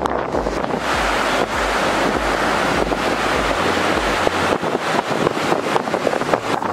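Sea waves breaking on a beach at Kund Malir, Balochistan, a steady broadband wash with heavy wind buffeting the microphone, loud and continuous with no talking.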